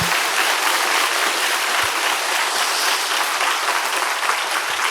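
A church conference crowd claps steadily and loudly for several seconds, a dense, even wash of applause with no voices rising above it.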